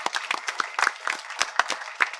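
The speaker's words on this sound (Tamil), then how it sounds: "ஒரு கைத்தட்டல் குடுக்கலாமே!" An audience at a film audio and trailer launch event claps in a short burst of applause, a crowd of scattered, crisp handclaps close by, with no speech over it.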